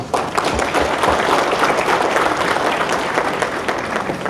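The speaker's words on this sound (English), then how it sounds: "I think she deserves a warm round of applause" A conference audience gives Jackie a warm round of applause at a middle managers leadership conference, with loud, continuous clapping from a large crowd that holds steady throughout and no speech on top.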